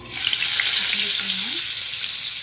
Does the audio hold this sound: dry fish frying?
yes